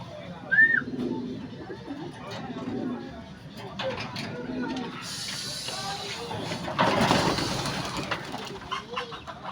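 Racing pigeons coo and flutter nearby at a loft with occasional chicken clucking, under steady background noise and some talking.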